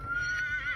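A horse on a ranch gives a short, clear whinny, a close tonal neigh lasting under a second.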